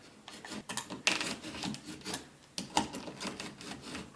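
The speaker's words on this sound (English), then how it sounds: "Scrape that away a little bit." Scraping inside an electrical outlet box while fitting a GFCI outlet, a series of close, rasping strokes in irregular bursts with brief pauses between, no talk.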